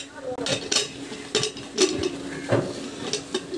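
A pressure cooker lid being fitted and locked shut on a pot of beef trotter nihari, with several sharp metallic clanks and scrapes spaced irregularly across a few seconds.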